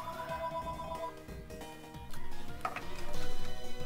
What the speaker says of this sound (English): Gotta love them phone interruptions,